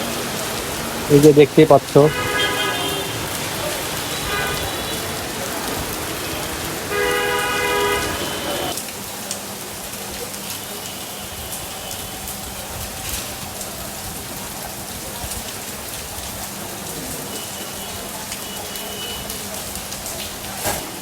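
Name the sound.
rain falling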